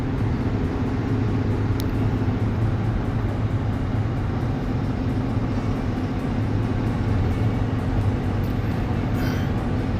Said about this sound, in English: driving down the road. I'm a trucker. Right now in the middle of Nebraska